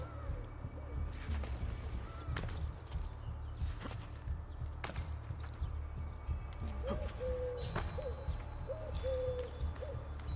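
A pigeon coos in a few soft repeated calls in the later part, set against game ambience of clip-clopping hooves and footsteps in Assassin's Creed: Brotherhood, with no talk over it.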